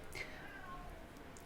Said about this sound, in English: I don't know why he's mewing.